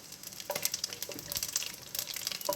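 Fennel and cumin seeds frying in oil alongside cloves, cardamom, cinnamon, nutmeg and mace for navratan pulao: a faint, fizzy crackle with quick popping bursts, close and quiet, with no voices.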